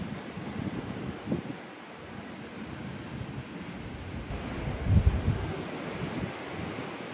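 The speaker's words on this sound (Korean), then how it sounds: "잠시 의자에 앉아 바다를 즐겨봅니다" Surf washing against a rocky East Sea shore path, a steady broad wash of waves with a louder surge near the end, heard close with light wind noise and no talk.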